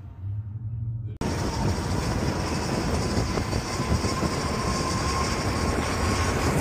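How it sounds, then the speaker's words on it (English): A train runs right alongside a fast-moving cyclist, its loud, steady rumble and rail clatter filling the scene after a brief quiet moment, with strong wind rush mixed in throughout. "There's a train next to me"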